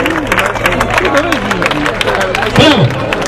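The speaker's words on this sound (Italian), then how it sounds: "Mentre direi di accogliere con un altro applauso quest'altro grande atterraggio di" Crowd applause and cheering at an Italian air show in Pescara after a parachutist's landing, steady clapping under loud excited voices and an announcer talking, with a shout rising near the end.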